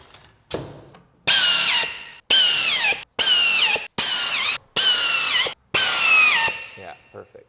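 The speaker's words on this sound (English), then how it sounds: "This side is screwed together." A power drill drives screws into a walnut desk, giving six loud, close bursts of whining motor with a falling pitch as each screw seats, separated by short pauses.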